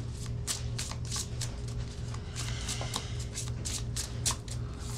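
Tarot cards get shuffled by hand, a continuous soft papery riffling with small irregular flicks over a steady low hum, close but quiet.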